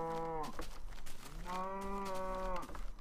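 Cow mooing in the Minecraft video game, two drawn-out, tonal moos in quick succession, loud and clear with no talk over them.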